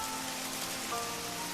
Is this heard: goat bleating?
no